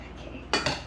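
A spoon clinks twice against a dish while pumpkin cheesecake dip is being made, two sharp close metallic taps in quick succession over quiet room tone.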